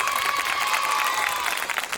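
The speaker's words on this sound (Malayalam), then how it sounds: "അതിന് അച്ഛന് വലിയൊരു കൈയടി പ്ലീസ്." Applause from a school annual day audience, a dense, steady wash of clapping that fills the moment and stays loud for about two seconds without pause.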